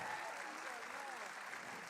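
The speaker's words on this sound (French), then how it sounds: "Bravo, on peut les applaudir bien fort." Faint, distant audience applause at an award ceremony for a mini-enterprise festival, a steady continuous clatter of clapping throughout the short moment.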